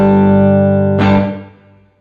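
Electric guitar amp sound in Logic Pro with room reverb added: a sustained distorted chord rings loud, a second strummed chord hits around the midpoint, then fades into a short reverberant tail.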